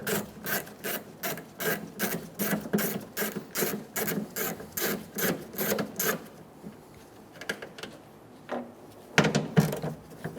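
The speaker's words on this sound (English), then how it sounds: "Using a 10mm socket, we're going to remove the 2 screws for the handle." Rapid ratcheting clicks from a 10mm socket ratchet backing out tailgate handle screws on a 2014-2018 Chevrolet Silverado 1500, a steady close run of pawl ticks for about six seconds, then a few scattered clicks and a louder knock near the end.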